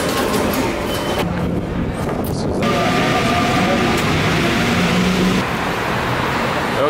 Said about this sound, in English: How was the train ride